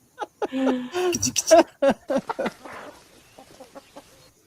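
Chickens cluck in a quick, irregular run of short calls, close and fairly loud, fading to quieter scattered clucks, with talk mixed in during a tabletop wargaming session.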